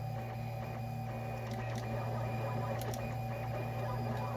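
A 3D printer runs steadily during a 7S 11P battery pack build with BAK 2600mAh cells, a constant low motor hum and whine with faint intermittent clicks, close and continuous with no talk.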